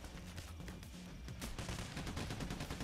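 Rapid gunfire rattles in the video game Payday The Heist, a dense, loud stream of close shots with a heavier burst midway, firing continuously without pause.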